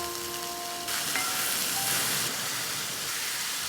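Onions frying in a pan while being stirred, a steady hissing sizzle that swells slightly partway through, with a brief thin tone at the start.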